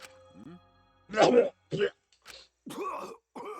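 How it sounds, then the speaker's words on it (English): Wet, strained coughing from a dying character in Danganronpa V3, a couple of rough bursts mixed with groaning voice sounds, close and fairly loud. "And he's coughing blood."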